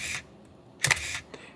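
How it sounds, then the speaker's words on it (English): A Canon EOS Rebel XSN (3000N, 66) film SLR camera fires its shutter: a short mechanical snap, then a louder clack with a brief whirring tail, close and crisp in a quiet room. "Let's take a photo."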